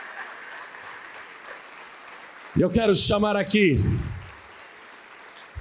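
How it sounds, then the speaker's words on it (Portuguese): A church congregation applauds in a steady wash of clapping beneath a preacher's voice, which rises loudly over it midway through. "vamos aplaudir mais"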